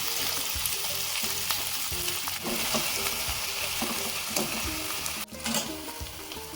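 Finely chopped onion hits a mustard seed, cumin and curry leaf tempering for stuffed brinjal curry, a loud close crackling sizzle with stirring scrapes throughout and a brief clatter near the end.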